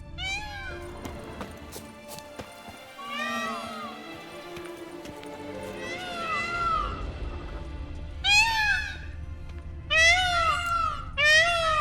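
Loud, nasal wailing calls of peacocks in a video game repeat in clusters over a low ambient hum, growing louder and more frequent toward the end, with no talking.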